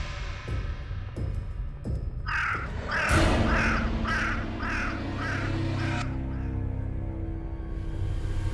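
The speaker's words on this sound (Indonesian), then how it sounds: "Suara burung itu." A crow caws in a quick series of harsh calls, loud and fairly close, over a steady outdoor background hum.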